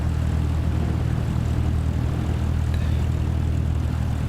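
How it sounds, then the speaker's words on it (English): A light propeller aircraft engine roars steadily and loudly at takeoff power on a runway, a constant close droning hum with no talk. "Okay, and aircraft is all started. We're going to be taking off on runway"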